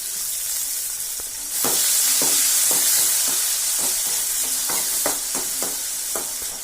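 Tomatoes sizzle and hiss in a kadai with onions, salt, turmeric and coriander-cumin powder, the steady frying broken by repeated scrapes and knocks of a spoon stirring the pan, close and fairly loud, with no talking.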